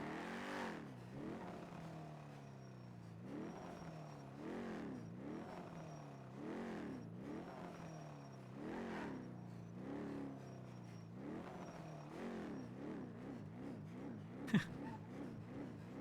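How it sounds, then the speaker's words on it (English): A video game car in NoPixel is stuck looping between first and second gear, its engine repeatedly revving up and dropping in a steady rhythmic cycle, moderately close and without speech. "This is the car getting stuck in a loop of first to second gear."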